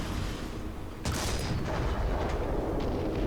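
A Panzer III Ausf. N tank in War Thunder fires its cannon once, a single loud sharp blast about a second in, followed by a rumbling tail over steady engine noise.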